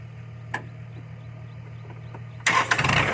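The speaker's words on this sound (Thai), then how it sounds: "โอ้นี่ครับการสตาร์ทรถแบบนี้" An old farm tractor engine gets started: a faint low idle hum with light ticking, then a sudden rough burst as the engine catches and roars up near the end.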